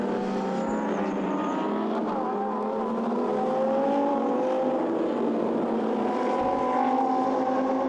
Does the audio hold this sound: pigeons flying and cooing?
no